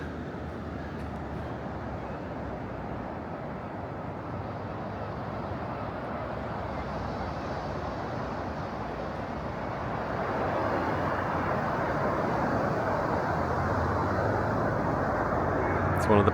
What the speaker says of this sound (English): Seagulls, waves crashing, and not a lot else.